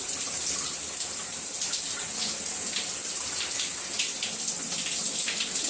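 Water runs steadily from a tap over hair during a washday rinse, a continuous close splashing hiss that stays constant throughout with no talking.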